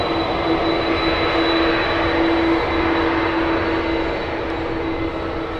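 Horizon Air plane in a special Alaska livery at San Francisco International Airport, a steady continuous roar with a sustained tonal hum, loud and unbroken throughout.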